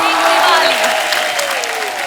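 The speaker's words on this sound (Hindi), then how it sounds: "आप सबकी जोरदार तालियों के बीच please welcome mister Ajay Devgan" Loud studio audience applause on a TV comedy show welcoming a guest, dense clapping with whoops and cheers layered under music and the host's voice.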